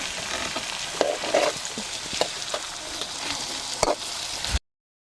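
A hotdog sizzles and fries steadily in a pan, a dense continuous crackle broken by a few sharper pops and stirring scrapes, close and fairly loud, with no talking.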